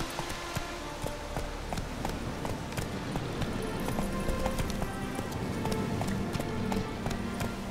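Roach, a horse in The Witcher 3 video game, gallops in steady rapid clip-clop hoofbeats that carry at a constant loudness from start to finish, with a brief faint whinny-like tone mixed in.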